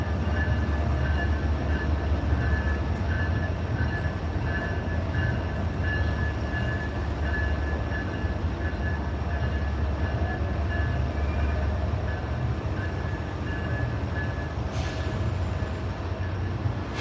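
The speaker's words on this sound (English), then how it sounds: "That's that train pass." Train passing at a camp, a steady loud rumble and rolling rail noise running throughout with a faint high whine, near and continuous, with no talk.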